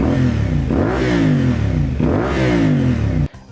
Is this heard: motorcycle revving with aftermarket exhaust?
yes